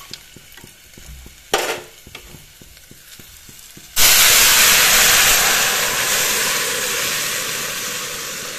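Boiled bottle gourd dropped into a hot oiled pan for a fish curry, bursting into a loud, close, steady sizzle that follows a few light stirring clicks and slowly eases off.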